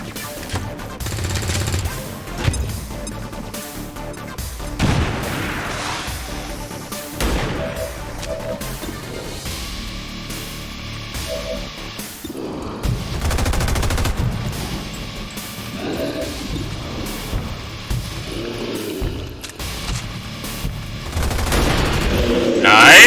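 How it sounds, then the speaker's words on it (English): Gunfire and grenade blasts in the video game XCOM 2, repeated shots and booming bursts spread throughout, loud and busy, with voices talking over the combat. "Throw a grenade!"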